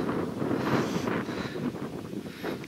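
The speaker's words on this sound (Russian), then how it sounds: "Ветер дует." Wind blows across an open upper plateau of a flowering steppe hill, a continuous rushing roar with microphone buffeting, close and steady throughout.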